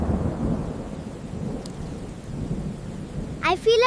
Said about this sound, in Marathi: ढग जमा होत आहेत, वेगाने धावत आहेत आणि गडगडाट करत आहेत.